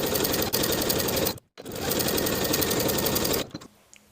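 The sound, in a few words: sewing machine stitching cardigan sleeve seam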